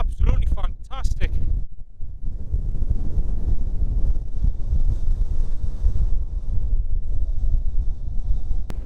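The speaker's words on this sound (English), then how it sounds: "52 mile an hour wind gusts up to 40 mile an hour winds" Strong wind gusts buffet the microphone on the exposed hilltop of Windy Gyle in winter, a loud continuous roar, with brief talk near the start.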